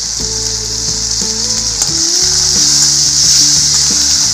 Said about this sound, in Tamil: பாருங்கள் வெங்காயம் நல்லா வதங்கி அதோடய கலர் மாறுது பாருங்கள் நல்லா.